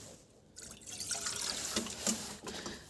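Water trickles and splashes steadily for a few seconds as it is poured for poultry on a farmstead, close by, with small drips and a brief gurgle, and no one speaking.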